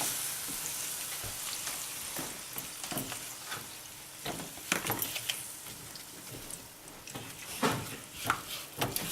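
Tomatoes and basil frying in a pan, a steady close sizzle with scattered crackles and pops and a few clinks of stirring throughout.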